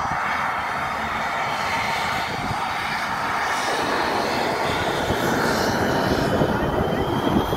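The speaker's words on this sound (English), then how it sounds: "Man, APUs sound really weird." Airport apron with an Embraer E175 and other airliners, auxiliary power units and jet engines producing a loud, sustained roar and whine close by, swelling over several seconds.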